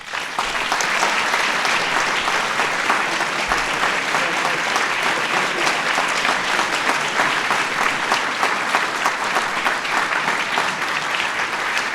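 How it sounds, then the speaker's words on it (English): A large ceremony crowd gives sustained, dense applause for science and technology medal honorees, loud and continuous throughout with no gaps or speech. "give another big round of applause to our honorees"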